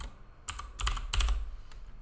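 Keys tapped on a computer keyboard while a MySQL query is written, a loose run of a few quick clicks and small clusters, close and fairly quiet, with no talking.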